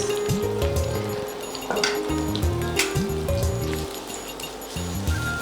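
Chopped onion fries in hot oil in a pan for an ilish fish and taro curry, giving a steady sizzle with clinks of a utensil against the pan, close by.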